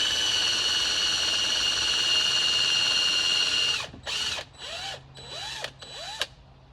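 A drill spins a plug cutter into a wood block for a step stool project, starting as a steady high whine and then breaking into several short bursts as the bit slowly bites in, close and loud.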